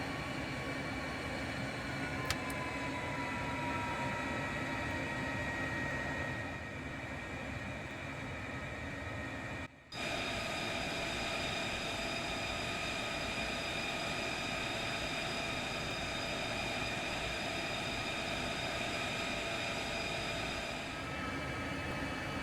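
An F-35A jet taxiing in Microsoft Flight Simulator gives off a steady, loud engine drone that holds evenly throughout, with only a brief dip partway through and no talking.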